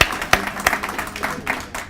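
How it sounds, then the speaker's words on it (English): Scattered handclaps from an audience at a business-coalition event cheering young entrepreneurs, a few sharp, separate claps spread out rather than full applause. "you gotta clap for entrepreneurs, come on."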